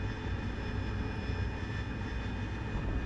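Harrier jet landing in a flight simulator game: a continuous, loud engine roar with a strong low rumble and a steady high whine that holds level throughout.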